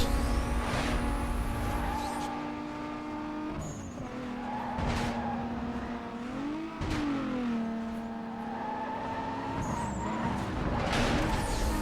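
Race cars in Need for Speed: Most Wanted (2005), loud revving engines with shifting pitch as gears change, plus squealing tires and skids through corners, steady and close throughout.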